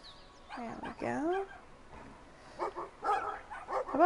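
A dog in the video game Brothers gives several short whimpering barks and yelps in uneven bursts, fairly close and moderately loud, with no talk over them.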